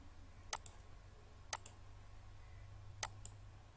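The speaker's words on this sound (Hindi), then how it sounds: "यहाँ आगे इंटर प्रेस करेंगे" A computer keyboard Enter key pressed three times at roughly one-second-plus intervals, each a crisp, quiet close click with a faint release click right after, over a low room hum.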